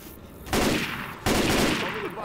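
Rapid automatic gunfire from the video game Left 4 Dead 2 erupts in two loud, dense bursts over a quieter background, with no speech.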